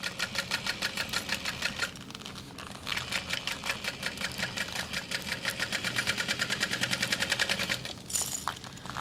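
A sewing machine stitches binding around the edge of a bag in steady, rapid mechanical bursts, pausing briefly twice before running on at a close, even rhythm.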